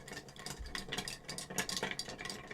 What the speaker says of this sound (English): Get our spoon in there and give it a stir.